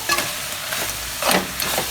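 Duck meat and masala sizzle and crackle in a hot pan while a utensil stirs and scrapes in a few bursts, close up, with no talking.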